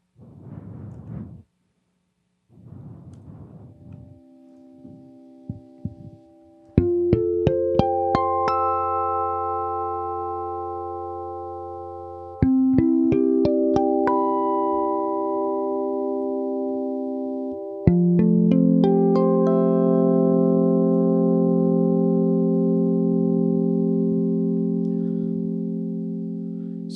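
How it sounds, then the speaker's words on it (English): Guitar played in a harmonic-based tuning, sustained chords ringing out with shimmering overtones, struck in three successive strums that each swell and linger, preceded by a few short muted scratches. "Guitar doesn't normally sound like this,"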